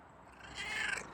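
A feral cat purring and mewing up close, a soft breathy rasp that swells louder midway through the short stretch with no talking.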